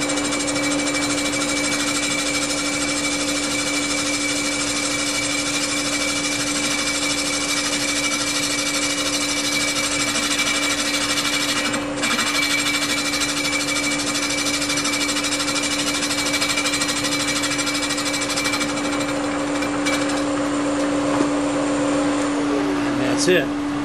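Cartridge rolls grinding and blending a Porsche 911 cylinder head's intake ports, a steady loud high-pitched whine with a constant tonal hum running nearly unbroken throughout, with a brief change in pitch near the end.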